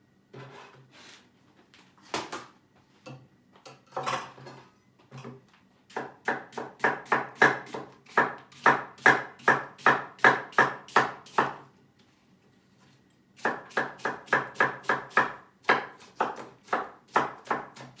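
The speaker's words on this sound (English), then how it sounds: "To cook them. That is why I'm chopping them." Apples are chopped on a board for jam, with a knife striking in quick regular bursts of sharp knocks, first a few scattered cuts, then two long rhythmic runs separated by a pause.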